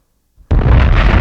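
A big bomb explosion erupts after a brief rumble, a loud, sustained broadband blast that fills the rest of the moment with a roaring boom.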